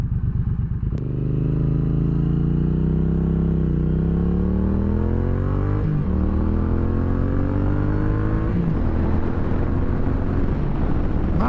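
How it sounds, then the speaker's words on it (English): A 2023 Triumph Speed Twin 900 motorcycle pulls away at full throttle, its engine note climbing steadily through the revs with a brief dip at a gear change. The sound is loud and close, continuous, and no one talks over it. "That was a decent acceleration. That was full throttle."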